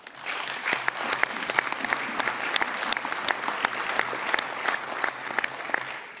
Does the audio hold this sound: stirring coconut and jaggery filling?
no